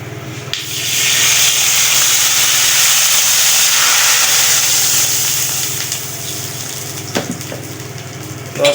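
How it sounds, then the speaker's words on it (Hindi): Water poured into hot ghee in a pan for methi khichdi, bursting into a loud, sustained hissing sizzle that slowly fades, with a few clatters near the end. "देखो घी में पानी डालूंगी।"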